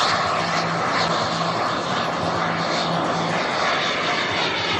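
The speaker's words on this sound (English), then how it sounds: "if you hear the noise of a jet, well, that's because we got two on the ground" Radio-controlled model turbine jets running on the ground at the Hunter Valley Airshow, a loud, steady broadband roar that holds close and constant throughout with no talk over it.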